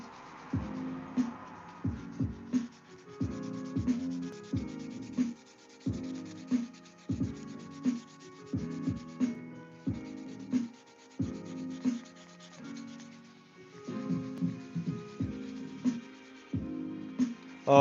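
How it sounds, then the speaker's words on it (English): Hand wet sanding of a surface, likely drywall or a filled panel, as steady back-and-forth rubbing strokes in an even rhythm, close and moderately loud with no talk. "I think if I did a little wet sand on it, we're gonna try"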